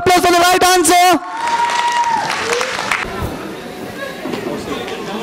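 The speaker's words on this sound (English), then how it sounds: "a big round of applause for the right answer" Audience applause at a school annual day event follows a short burst of voices, with clapping and crowd chatter filling the room steadily for several seconds.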